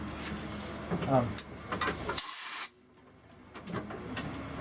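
A strong blast of air is pushed through the bore of a handmade wooden Native American flute in the key of A, a loud breathy hiss that stops abruptly, with shop noise and rustling around it.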